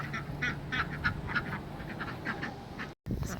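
A duck named Luna, once attacked by a dog, quacks in a rapid, repeated run of nasal calls close by over low rumbling background noise, with a brief dropout near the end.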